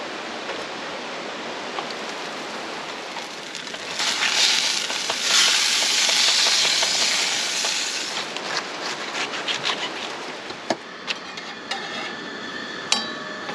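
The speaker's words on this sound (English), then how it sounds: "And here comes the rain." Rain arrives on a camp awning over an overlanding campsite: a soft hiss swells into a dense, steady patter, then thins with scattered sharper drops tapping the fabric.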